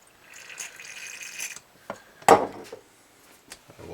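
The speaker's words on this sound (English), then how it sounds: "I'm going to use some electrical contact cleaner. Spray that into the little holes in the pot there." Electrical contact cleaner sprays in a steady hissing burst into the potentiometer holes of a vintage Japanese Squier Telecaster, followed by a few sharp clicks and knocks, close and moderately quiet.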